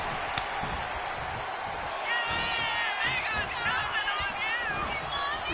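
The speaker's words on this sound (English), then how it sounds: "And CM Punk looking for support from the crowd." Wrestling arena crowd in the WWE 2K26 video game, a steady wash of cheering with scattered whistles that sits under a commentator's voice.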